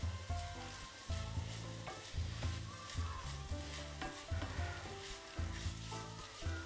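Washed rice is stirred through a hot pan for a mushroom pilaf, giving a steady close sizzle with rhythmic scraping strokes roughly every second and no talking.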